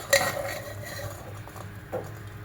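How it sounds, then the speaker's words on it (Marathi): Boiled corn kernels pour into a mixer jar with a quick rattling clatter of kernels against metal, a sharp burst at the start, scattered light patter after, and a second small clink near the end, with no talking. "मी इथे मिक्सरचं भांडं घेतलंय यामध्ये हे दाणे घालणार आहे"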